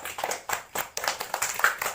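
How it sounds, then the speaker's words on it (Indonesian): Fourth-grade classroom applause for a student: a small group of children clapping in a loose rhythm of sharp, separate claps, fairly quiet and close, with no talk over it. "kasih tepuk tangan buat Herpian"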